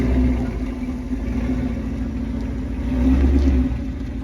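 A Mustang GT500 driving around next door: a steady low engine rumble with a mid-range drone, rising slightly toward the end as it revs, heard from a garage with no talking.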